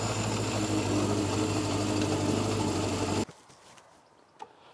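A 1970s Honda CB750 classic motorcycle engine runs at a steady, loud drone for about three seconds, then cuts off abruptly, leaving a quiet background with one faint knock.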